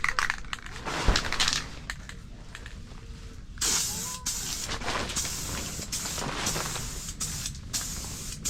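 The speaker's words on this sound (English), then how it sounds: "Let's spray this blue fast so we get this paper off this white" An aerosol can sprays blue paint onto a car hood in long steady hisses, close by, with clicks and rattles between sprays and no talking.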